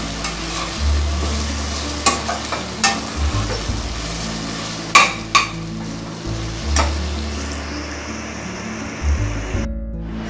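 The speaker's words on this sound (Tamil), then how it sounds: "சிம்மில் வச்சு தக்காளியை நல்லா வதக்கிக்கோங்க." Tomatoes and ginger-garlic paste sautéing in a pot for green spicy soya vegetable biryani, with a continuous sizzle, periodic spatula scrapes against the metal and a low droning hum underneath, close and steady.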